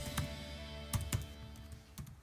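A password is typed on a computer keyboard during Windows 10 setup: a handful of sharp, quiet key clicks in an uneven rhythm, close by, with no talking.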